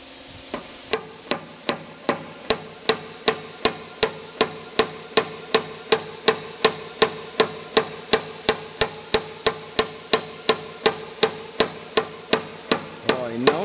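A new Astron pin is struck with a hammer in hard, evenly spaced metallic blows, about thirty loud ringing hits in steady rhythm, close by and without talk.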